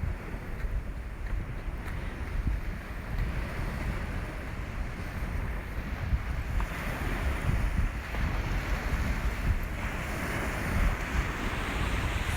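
Sea surf rolls onto a broad beach at Zatoka on a blustery day, a continuous low roar of breaking waves with gusts of wind buffeting the microphone, no one speaking.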